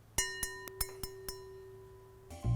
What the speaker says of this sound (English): You can actually hear a great wine glass.